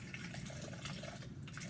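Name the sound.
pouring 100 milliliters of water into an airbag test container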